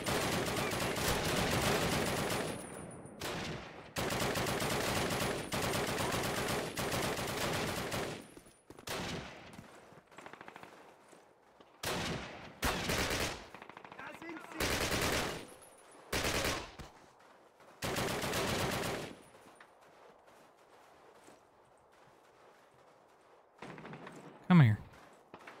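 MG42 machine gun fire in Call of Duty: long, loud bursts of rapid automatic gunfire, then shorter bursts separated by quiet gaps, with a voice speaking near the end.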